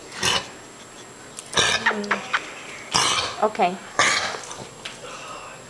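Four rough, hacking cough bursts from a baby, spaced about a second apart, close and fairly loud, with a person briefly speaking between them.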